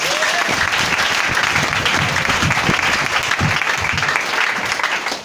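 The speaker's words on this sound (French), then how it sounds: "Est-ce que tu peux l'acclamer?" A church congregation at a Christmas Eve vigil breaks into loud, sustained applause that keeps a steady dense roar for the whole stretch, with scattered shouts inside it.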